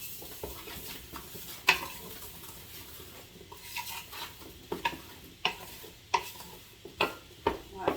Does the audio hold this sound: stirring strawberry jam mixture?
yes